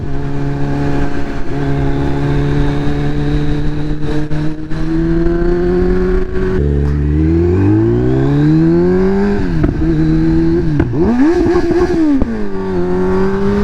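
A loud, close Kawasaki Z900 motorcycle engine with a remapped tune runs continuously, idling then revving up and down several times with a throaty drone.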